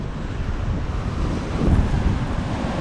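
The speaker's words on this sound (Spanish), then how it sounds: "esto es una explosión de marejada" Rough sea swell crashing under strong wind near a spinning fishing spot, a loud continuous roar of surf and buffeting wind noise that swells toward the middle, with no voices.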